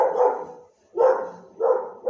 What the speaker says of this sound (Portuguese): o cachorro tá latindo ali que o cara tá abrindo